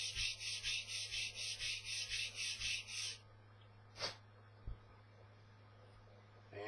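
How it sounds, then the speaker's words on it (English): Sandpaper rubbed back and forth across a plastic model kit seam, about a dozen quick rhythmic close strokes in a row, then quiet with a couple of faint handling taps. "You want to make sure that that is dead even and sand it all the way across."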